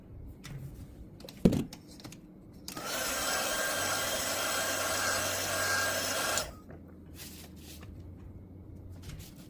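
A hair dryer blows on wet watercolor paint for about four seconds, a loud steady rushing whoosh that starts abruptly and cuts off, with small tapping and handling sounds before and after.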